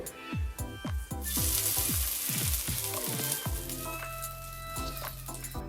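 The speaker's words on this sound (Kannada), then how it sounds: "ಈಗ ಇದಕ್ಕೆ ನಾವು ಒಗ್ಗರಣೆನ ಸೇರಿಸ್ತಾ ಇದ್ದೀವಿ" Hot oil tempering poured into coconut chutney, setting off a loud, close sizzle with a rapid series of pops and spits that gradually settles into a softer, steady fizz.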